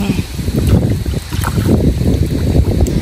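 Strong wind buffeting the microphone in rumbling gusts, with rough low roaring throughout.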